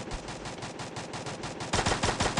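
Rapid automatic gunfire in a shooter video game rattles in a fast, steady burst, growing louder and heavier toward the end, with no talk over it.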